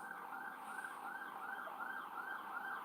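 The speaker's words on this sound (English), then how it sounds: "all of a sudden the sirens are going off" Emergency vehicle siren wailing steadily in a rising and falling pattern, heard from a distance and fairly faint, continuous with no voices.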